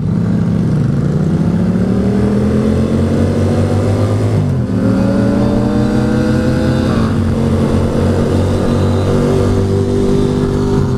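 A loud 1100 motorcycle engine roars up close, revving and climbing in pitch, briefly dropping, then rising again in a sustained, throaty drone.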